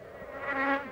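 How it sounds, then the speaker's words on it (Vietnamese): A fly buzzes close by for under a second, a thin droning whine that swells in pitch and loudness, with no talk. "Con ruồi."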